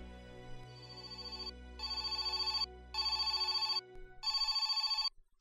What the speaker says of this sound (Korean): 사무실에서 전화벨이 울린다.